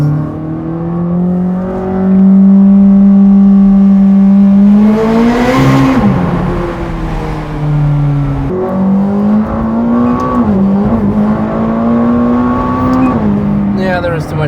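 McLaren 600LT engine heard from inside the cabin, a loud harmonic drone rising and falling through revs, climbing sharply near the middle before settling and building again.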